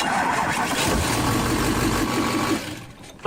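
A truck with a faulty starter relay cranks and catches, running with a loud rough churn before the revs drop off near the end.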